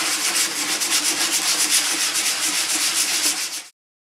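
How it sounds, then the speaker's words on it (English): Steady, close scratchy rubbing of sandpaper on a thrifted furniture piece being refinished with chalk paint, a continuous rhythmic back-and-forth stroke that stops abruptly near the end. "Some sandpaper."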